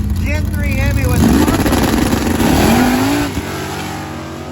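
Valiant drag car with a Gen 3 Hemi engine at a drag-and-drive event, a loud roaring launch with rising engine pitch that fades as the car pulls away, under a voice talking throughout.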